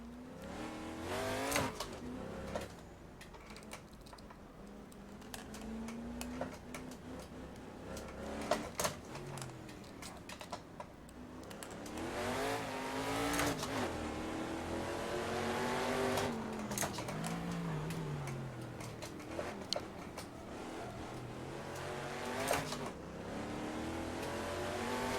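A Shelby Cobra's engine revs and accelerates through the gears during a racing video game lap at the Nürburgring, rising and falling in pitch with brief tire squeals, loud and continuous.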